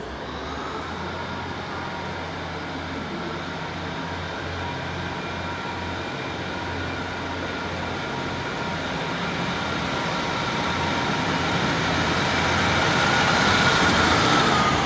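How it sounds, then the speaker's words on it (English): A Great Western Railway passenger train on the service to Exmouth runs past at Exeter St Davids station with a steady rumble and rail hum, growing louder and nearer as it comes through, with no voices. "Keep the camera rolling for the Great Western Railway service to Exmouth."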